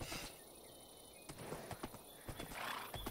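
Minecraft horse from the Minecolonies mod: hooves clip-clop in uneven steps and a whinny is heard, all faint and close, with no talking.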